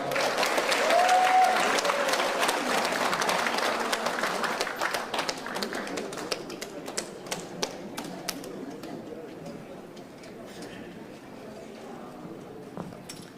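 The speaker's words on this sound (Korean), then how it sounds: "박수로 맞이하겠습니다." Audience at a lecture in Busan applauds to welcome a speaker, thick clapping at first that thins into scattered claps and fades toward the end.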